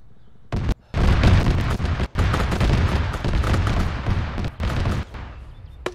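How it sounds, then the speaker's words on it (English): Ammunition cooks off inside a Bradley vehicle in a video game, a dense, loud run of booms and crackling blasts lasting several seconds, broken by brief gaps, with no speech. "I think it's cook-off, it sounds like the Bradley."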